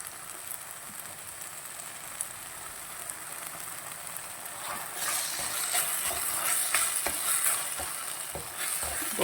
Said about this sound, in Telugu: ఇప్పుడు ఒక 10 మినిట్స్ కొంచెం పచ్చివాసన పోయేంత వరకు ఫ్రై చేసుకోవాలి